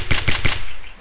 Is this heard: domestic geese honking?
no